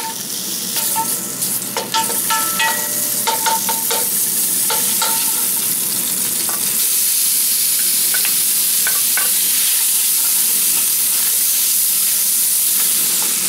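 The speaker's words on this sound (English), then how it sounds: "Very first thing you want to do is cook some bacon. Everybody likes this sound." Bacon sizzles and crackles steadily in a hot pan, with a few early clinks and pops before the hiss settles into a constant frying roar.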